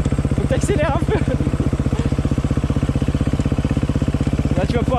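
A motorcycle engine chugs close by with a fast, even pulsing beat during a wheelie lesson, while a person talks over it.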